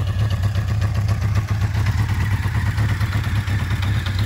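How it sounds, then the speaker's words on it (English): A Honda CB 550 Nighthawk motorcycle engine runs close and loud with a steady, throbbing mechanical clatter during warm-up, heard on its own. "Really got to rev her out, get her warmed up."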